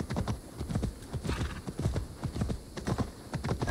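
Horse hooves clip-clop in a steady galloping rhythm in Assassin's Creed Valhalla, with a brief whinny, close and loud throughout.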